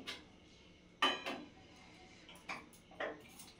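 Pots and cups clink while tea is made in a home kitchen: a handful of sharp, bright metallic and ceramic taps, scattered and fairly close against a quiet background.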